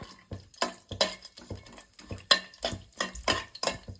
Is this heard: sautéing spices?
yes